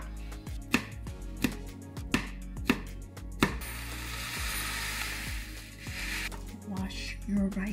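A knife chops vegetables for taco bowls on a cutting board, several sharp evenly spaced thuds, then a long hiss of running water or spray, with a person talking quietly in the background.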